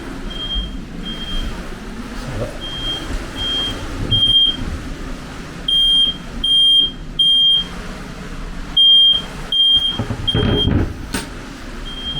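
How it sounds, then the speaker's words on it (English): Repeated high-pitched electronic boat bilge alarm beeps in irregular bursts during a lightning storm, over a low rumbling background, fairly loud and close. "My bilge alarm's going off because there's a lightning storm."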